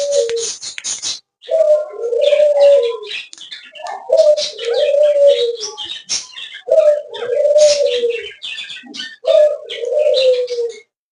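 Pet pigeons cooing loudly and close, a repeated series of rolling coos in steady phrases, with soft chirps and small rustles between them while the birds are fed almonds and cashews.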